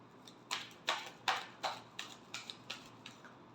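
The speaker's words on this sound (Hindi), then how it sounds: "Last shuffle." Tarot cards being shuffled by hand, a series of about eight crisp riffling bursts in a fairly even rhythm, close and moderately quiet, with no talking.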